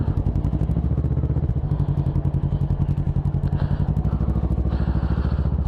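A Kawasaki ER-6n parallel-twin motorcycle rides through traffic with a steady, rapid engine throb and brief revving swells, loud and close throughout.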